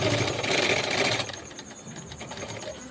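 A sewing machine stitches the neckline of a baby frock, its fast, loud, close rattle running for about a second before it stops and leaves only faint handling noise.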